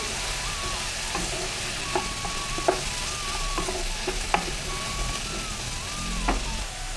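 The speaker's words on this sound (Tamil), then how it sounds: "இது எல்லாத்தையும் ஒரு முறை நல்லா கலந்து கொடுத்துடலாம்" Vegetables, turmeric, chilli powder and salt are stirred in a pan for Udupi-style vegetable kurma, with steady scraping and soft clinks over a constant sizzling background, while a faint tonal beeping wavers in and out.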